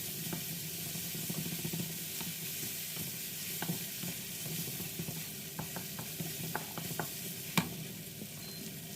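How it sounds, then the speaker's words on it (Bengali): Grated garlic and ginger paste frying briefly in oil for a shole fish and yardlong bean curry, a soft, steady sizzle with scattered stirring taps and one sharper knock, no speech. "এবার আমি তেলের সাথে একটু ভাজি করে নিব 10 সেকেন্ডের মতো"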